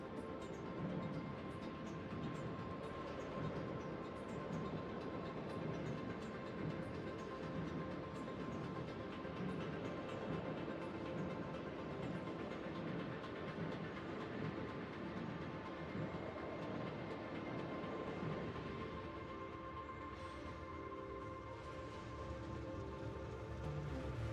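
Train running in a building video game, a steady rumbling rolling sound with faint rhythmic clatter, continuous and fairly close throughout, no talking.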